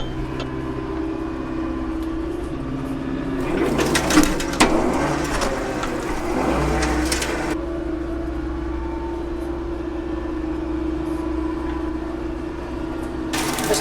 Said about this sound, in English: Moving that tree with that brush cutter.